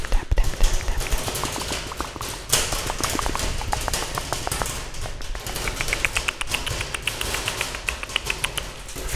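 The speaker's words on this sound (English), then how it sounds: "Let's rummage the combs, Tap on them" Rapid, dense tapping on hair combs, close and crisp, with fast irregular clicks running throughout and no talk.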